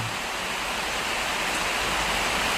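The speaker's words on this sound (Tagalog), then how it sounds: "Ang mabuti dito siguro, pag humupa itong ulan" Steady rain pours in a dense, even wash of hiss, close and continuous with no breaks and no voices.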